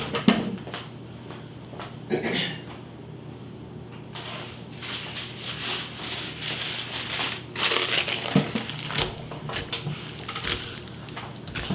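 Sheets of wax paper crinkle and rustle as they are handled and laid down on a table, in irregular bursts of crumpling, with no talk.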